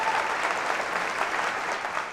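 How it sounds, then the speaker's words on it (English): A round of applause at an employee of the year awards ceremony: an audience claps steadily throughout, dense and even, with no voices standing out. "Everyone, let's give another round of applause for Lucy Morningstar."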